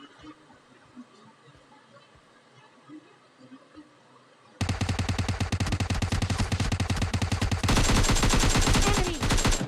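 Automatic gunfire in the mobile battle royale game PUBG Mobile Lite, with a long, loud, rapid burst of shots that begins suddenly after a quiet stretch and grows harsher toward the end.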